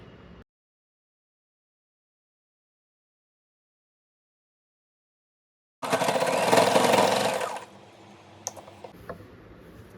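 A sewing machine stitches the side seams of a deep-neck blouse, running in one steady whirring burst of about three seconds after near silence, then trailing into a few soft clicks and handling sounds.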